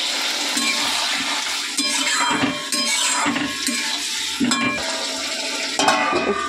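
Curry in a pan sizzles and bubbles steadily after a little water is poured in, with occasional stirring clinks of a utensil against the pan, loud and close throughout.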